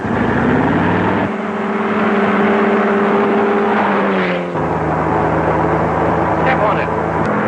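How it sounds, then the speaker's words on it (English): A motorcycle engine roars loud and close in a steady, harmonic drone, its pitch stepping and shifting as the bike revs and pulls away, with the rumble sustained throughout. "let's grab that motorcycle"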